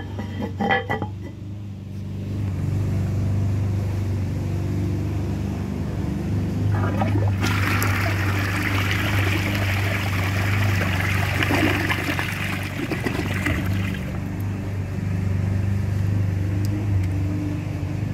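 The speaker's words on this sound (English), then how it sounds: "This toilet's got a decent flush." An Eljer Savoy toilet flushes with a loud, rushing swirl of water that lasts several seconds and then tapers off. A steady low hum runs underneath, and a few faint clinks come before it.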